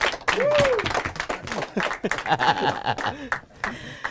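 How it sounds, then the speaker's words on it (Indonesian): An audience at a stand-up comedy open mic claps for comedian Irwan Chan, scattered clapping mixed with chuckles and laughter while a host's voice talks over it. "Tepuk tangan lagi sekali."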